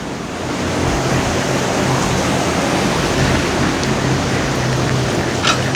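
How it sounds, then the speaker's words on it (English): A long hose sprinkler spraying water over a large conservatory planting area, a steady loud hiss of spray with faint ticks near the end. "So this is one of my sprinklers. This is my longest hose sprinkler."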